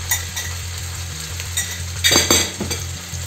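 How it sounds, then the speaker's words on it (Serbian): Rolled schnitzels frying in hot oil on medium heat, a close, steady sizzle with brief clinks and scraping of utensils against the pan partway through. "kada vam se zagreje ulje, stavite da pržite oko 7-8 minuta na trojku"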